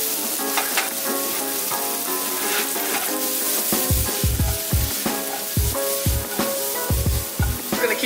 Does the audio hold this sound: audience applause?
no